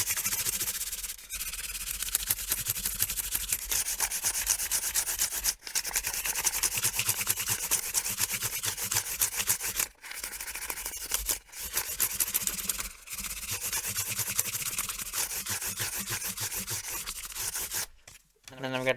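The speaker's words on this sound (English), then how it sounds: "I've got a piece of 600 sandpaper." A guitar fret on a 1973 Guild F50 is rubbed with 600 grit sandpaper, a continuous rapid back-and-forth scratchy sanding close up, broken by a few brief pauses.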